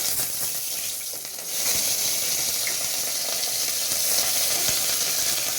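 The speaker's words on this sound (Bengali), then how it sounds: "তেল গরম হয়ে গেছে, এবার আমি মাছগুলোকে ভেজে নিই" Rui fish frying in hot oil in a covered pan, a continuous loud sizzle and crackle that swells slightly after a brief dip, with faint spatters and no voices.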